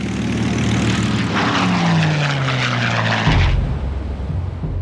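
Outdated American propeller warplanes from the Battle of Midway drone loudly overhead, engines roaring with a pitch that sweeps downward as one passes close by, then a deeper rumble takes over.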